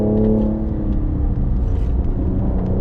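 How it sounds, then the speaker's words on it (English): A 2021 Cadillac CT5-V's low, rumbling engine runs steadily up close, with a throaty burble from the exhaust underneath the drone. "a little burble from the exhaust"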